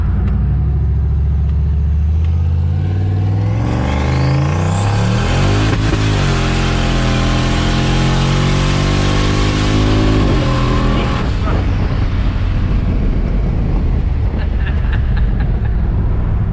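On a cold-day test drive, a Chevrolet Colorado with a newly fitted turbo idles, then accelerates hard with a loud rising engine and turbo whine before backing off to a lower rumble.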